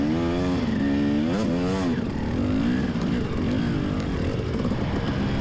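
A motorcycle engine labors on a muddy, leaf-covered hill while the rear tire spins, a loud, continuous drone with rising and falling revs, heard up close throughout.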